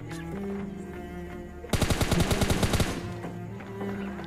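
A rapid automatic burst of about a dozen evenly spaced shots from a gun in PUBG Mobile Lite, loud and close, lasting just over a second between quieter game ambience.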